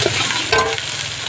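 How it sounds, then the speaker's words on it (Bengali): Turmeric and salt are being stirred in a hot frying pan, a short burst of steady sizzling with a brief scraping stir in the middle, close and fairly loud. "এখন আমি হলুদ দিয়ে দেবো, লবণ দিয়ে দেবো। এখন নেড়ে চেড়ে নেব।"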